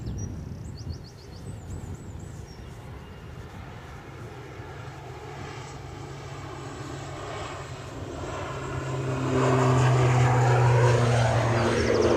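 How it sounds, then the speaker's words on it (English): An ATR turboprop airliner rolls for takeoff at Edinburgh Airport in a crosswind, its propeller drone building and growing louder toward the end, with steady broadband engine roar and wind in the background. "Right, ATR rolling."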